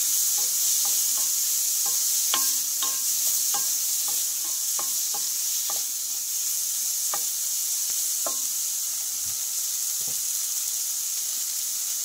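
Chopped shrimp frying in mustard oil in a pan, with a steady sizzle and hiss running throughout, broken by a series of short clinks and scrapes as the pieces are stirred; no talking.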